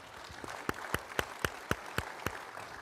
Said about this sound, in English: And let's give Dave Waterman a round of applause.